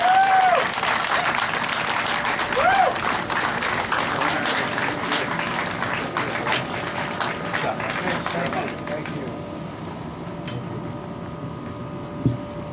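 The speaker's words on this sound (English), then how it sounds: "Please give a very loud round of applause for my friend Wayne Winsley" Loud, sustained applause from a rally crowd in Monroe, CT, dense clapping that carries for most of the stretch before thinning out, with a voice heard over it briefly at the start.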